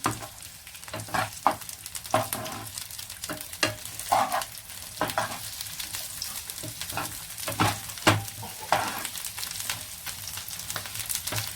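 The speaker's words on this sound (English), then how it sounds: "So we need to half cook these onions." Onions half-cooking in a kadai for achari paneer, sizzling steadily up close while a utensil scrapes and stirs them in frequent knocks and sweeps; no talking.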